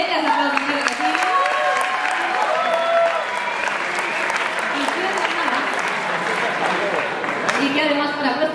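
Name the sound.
audience applause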